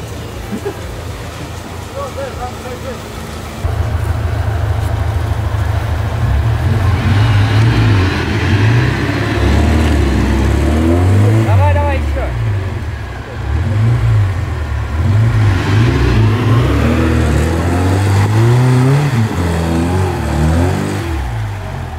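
An off-road car engine, likely a Niva or UAZ, revs hard and strains in surging waves, rising and falling, with voices talking over it; the worn engine is due for an overhaul.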